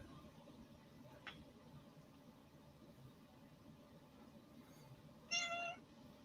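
A cat gives a single short meow near the end, fairly close and clear above a steady background hiss and hum, with no talking.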